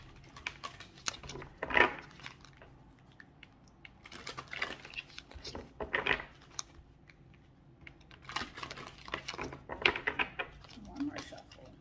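Tarot cards being shuffled by hand, with soft bursts of papery riffling and tapping at irregular intervals, heard close up between quieter pauses.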